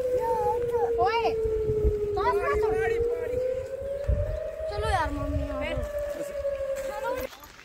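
A long wailing emergency siren, sounded as water is released from a dam, holds a steady rising and falling tone in the distance while people talk nearby at a riverside campsite, with wind noise underneath.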